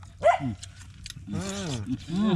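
A dog barks close by: a sharp yip, then drawn-out, whining barks that rise and fall in pitch.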